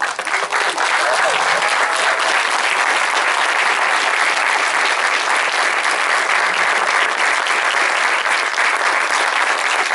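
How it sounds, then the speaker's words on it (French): Thunderous applause from a packed cinema audience at a film premiere Q&A welcoming Pedro Almodóvar, dense and loud clapping that holds steady for the full ten seconds. "accueillir avec un tonnerre d'applaudissements Monsieur Pedro Almodóvar"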